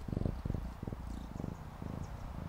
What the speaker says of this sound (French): Oh, mais les amis, ça y est, on a trouvé un chat encore.